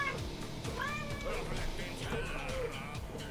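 Pet cat meows repeatedly and insistently, several drawn-out wavering cries close to the microphone, heard under someone talking and background game sound.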